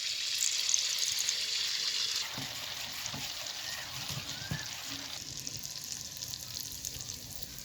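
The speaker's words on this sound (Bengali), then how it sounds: "আবারও একইভাবে তেলে ব্যাটারটা দিয়ে দিব।" Date-jaggery poa pitha batter sizzling in hot oil, a steady close crackling fry that is louder at first then settles, with a few soft clinks and no voices.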